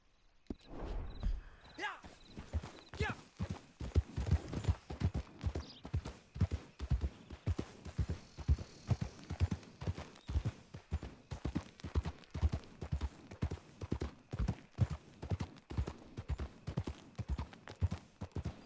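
A horse gallops in the video game Red Dead Redemption 2 Online, hooves clip-clopping in a fast, steady rhythm that runs close and continuous throughout.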